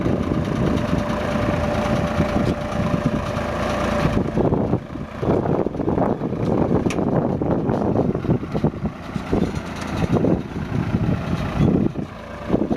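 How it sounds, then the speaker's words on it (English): A Massey Ferguson 431 tractor engine runs steadily at close range while planting tomatoes, a constant low rumble with a droning tone that shifts after a few seconds into a rougher, uneven chug. "This is a Massey Ferguson 431 tractor"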